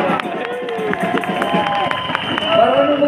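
A crowd at a football viewing event claps and cheers for a ten-year-old boy, a busy, rhythmic burst of applause mixed with voices throughout.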